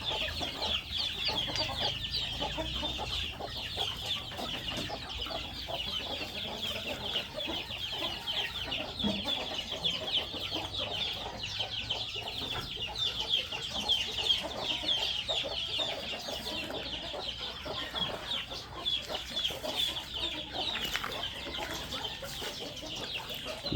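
Many chickens kept on a small countryside lot cluck continuously in a dense, overlapping chorus, fairly near and even in level, with no talking.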